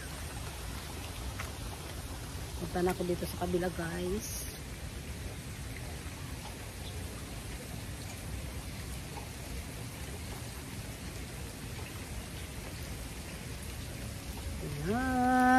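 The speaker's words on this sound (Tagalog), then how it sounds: "Umuulan." Steady rain falls outdoors during a rainy outing, a constant hiss running through the whole stretch with a few spoken words over it and a rising engine-like tone at the end.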